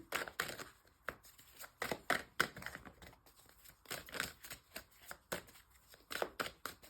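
A deck of playing cards is shuffled over and over at close range, with quick riffling bursts and soft slaps of the cards arriving in an uneven rhythm, fairly quiet, with no talking.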